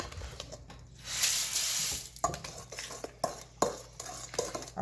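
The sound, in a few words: stirring brown sugar to break up chunks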